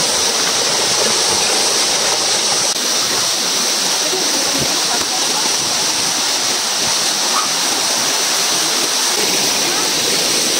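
River water rushes steadily beneath a bridge, a loud, dense, continuous roar of flowing water heard up close with no break in the sound.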